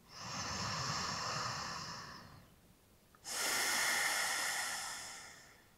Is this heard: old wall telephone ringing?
no